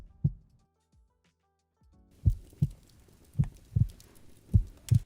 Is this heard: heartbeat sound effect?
yes